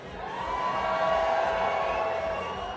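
A live audience at a Highland variety show cheers and whoops in one sustained swell that rises and fades over a few seconds, with a bright shouted tone running through the crowd noise.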